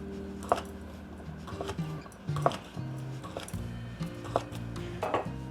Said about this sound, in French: la saucisse chinoise que je vais couper d'abord en longueur, puis en longueur encore